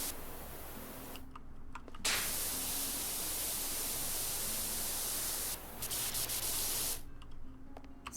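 Steady, loud hiss of a pressure washer spraying in PowerWash Simulator, running for several seconds with a couple of brief breaks where the jet stops.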